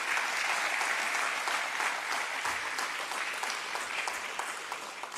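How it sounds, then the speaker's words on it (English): Sustained applause from a large crowd at the Burger King India Limited listing ceremony, steady dense clapping holding for several seconds and thinning slightly toward the end. "let's give a round of applause for this entire team"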